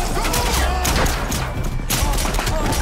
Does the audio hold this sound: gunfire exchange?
yes